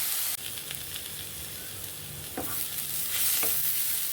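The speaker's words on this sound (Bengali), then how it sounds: "ভালো করে ভাজা ভাজা করে নিচ্ছি তারপর একটু নুন দিয়ে দিলাম এর মধ্যে পেঁয়াজটা তাড়াতাড়ি তাড়াতাড়ি হবে" Onions frying with salt in a pan of oil for a Bengali coriander chicken dish, a steady close sizzle with a few stirring scrapes near the end.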